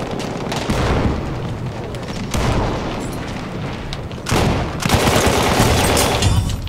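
Gunfire in a Battlefield 1 battle at Fort De Vaux, with dense, continuous volleys and booming blasts that swell louder toward the end, loud and close with no pauses.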